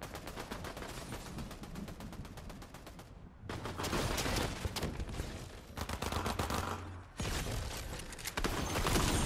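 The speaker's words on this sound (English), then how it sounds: "Somebody shooting behind us." Gunfire in Fortnite Zero Build erupts behind the player: rapid automatic bursts in several loud volleys separated by brief pauses, sharp and close.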